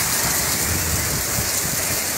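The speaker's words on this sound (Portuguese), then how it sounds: "Olha só a ventania, pessoal." Strong gusting wind with heavy rain during a storm in Ceilândia, Brazil, a loud continuous rushing hiss that fills the whole clip with no voices.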